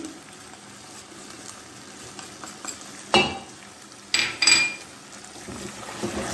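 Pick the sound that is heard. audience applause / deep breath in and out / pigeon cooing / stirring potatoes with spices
stirring potatoes with spices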